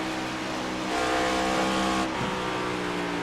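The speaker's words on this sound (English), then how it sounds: "Let me listen to the engine." A race car engine in a NASCAR racing video game at Chicago, droning steadily with layered harmonic whine, swelling in pitch and volume before settling back, with no talk.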